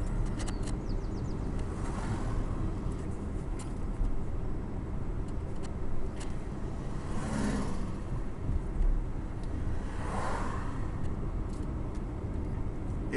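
A car drives into the small town of Volcan, Panama, in light early-morning traffic, its engine and road noise forming a steady, continuous rumble close by throughout.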